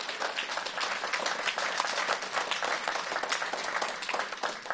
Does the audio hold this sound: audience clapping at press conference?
yes